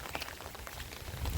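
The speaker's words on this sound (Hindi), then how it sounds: "પવન પણ ચાલુ છે અને વરસાદ પણ ચાલુ છે।" Heavy rain falls in a village, a soft, steady hiss of drops on surfaces with low rumbling wind underneath, faint and brief with no voices.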